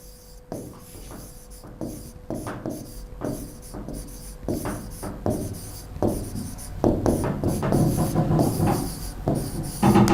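Chalk or marker strokes on a classroom board during an English grammar lesson, a rapid series of short scratchy taps and rubs that grow denser and louder toward the end, with no talking.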